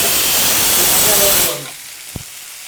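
Loud hissing sizzle of food frying in a pan for about a second and a half, then it cuts off, followed by a single soft knock.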